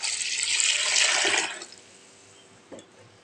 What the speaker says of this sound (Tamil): தண்ணி முழுகிற அளவு ஊற்றிக்கலாம்.